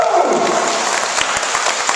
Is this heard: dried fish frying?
no